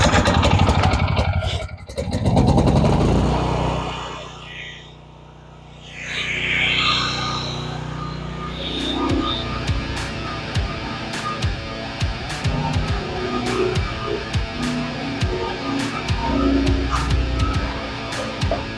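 A Generac generator engine cranks up and settles into steady running, a loud, close mechanical drone with rattling clatter that holds even for the rest of the stretch after a rough start and a brief lull.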